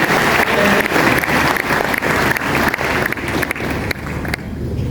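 Sustained audience applause fills a lecture hall, dense and steady for several seconds with individual claps popping through, fading slightly toward the end.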